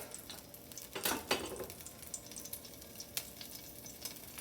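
Oil heating in a frying pan for pork chops and potatoes crackles and sizzles at moderate volume, with a cluster of sharper pops early on and scattered spits afterward.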